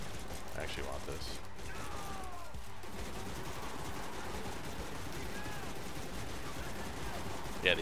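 Rapid gunfire in the arena shooter Deathrun TV, a dense continuous clatter of shots and mechanical noise running throughout under game sounds.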